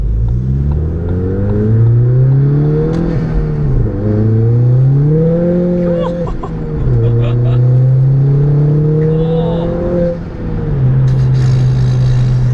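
Stage 5 Ford Fiesta ST200 with a 383 bhp turbo engine pulling hard through the gears on a dual carriageway, a loud in-cabin engine drone rising in pitch, dipping at each gearchange and climbing again, with a turbo whistle above it.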